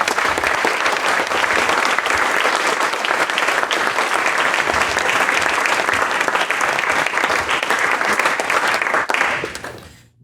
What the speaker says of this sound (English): let's give Kevin Rudd a warm round of Nantucket applause.